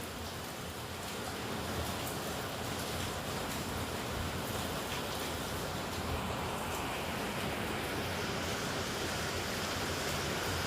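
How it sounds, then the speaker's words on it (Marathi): Heavy rain pouring outside, a dense, continuous hiss that stays even and fairly soft throughout with no voices over it. "बाहेर पाऊस येत आहे जोरदार तर पावसाचा आवाज आहे"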